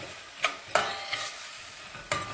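Vegetables are sautéed in a pot as a base for vermicelli soup, a soft steady sizzle broken by a few sharp scrapes and taps of a spoon stirring against the pot.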